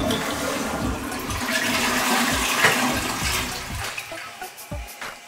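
A toilet flushes in a large bathroom, a loud rush of water lasting about four seconds that tapers into softer gurgling and trickling as the bowl refills.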